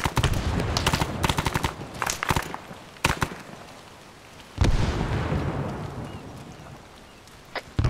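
A frag grenade goes off in a tactical war video game. Rapid gunfire bursts come first, then one loud deep blast that rumbles and fades over several seconds, followed by a few more sharp shots.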